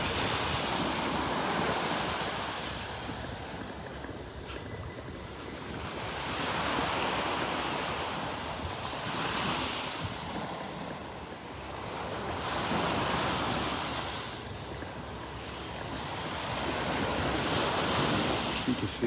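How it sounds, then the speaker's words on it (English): Surf breaks on an offshore sandbar along a North Naples, Florida beach in slow, swelling surges of white noise, rising and falling every few seconds, distant but steady, with no talk. "the waves breaking on the sandbar out there now"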